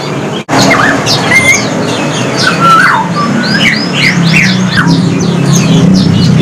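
Forest oriole singing at a bird market, its clear whistled phrases and chirps repeated over a loud steady background of road traffic and general outdoor noise.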